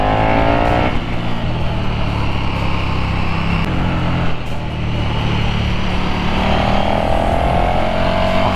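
A 2022 KTM Superduke R motorcycle roars along a winding road, its engine loud and close with rising and falling revs as it accelerates and shifts, under heavy wind rush.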